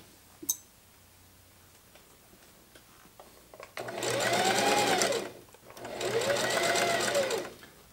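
A sewing machine stitches fabric for a pair of pants in two steady bursts of rapid mechanical whirring with a faint pitch sweep, close and clear, with quiet handling clicks between.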